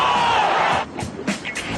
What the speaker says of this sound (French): Ça touche, c'est bingo, la foule est en délire